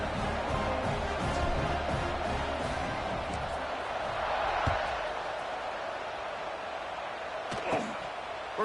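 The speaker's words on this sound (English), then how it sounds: "this crowd is buzzing after that last score" A football stadium crowd buzzes steadily at an Oregon Ducks game against the #23 Indiana Hoosiers, a broad, continuous roar of many distant voices that swells slightly midway.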